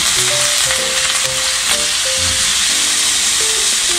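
Loud, close sizzling of yakisoba noodles with oysters frying in a pan just after a tablespoon of water is added, a dense steady hiss with bubbling crackle and faint tonal squeaks throughout.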